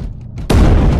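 A sudden heavy boom erupts in the Space Hulk Deathwing video game, cutting in abruptly after near silence and sustaining as a loud, rumbling roar with no speech.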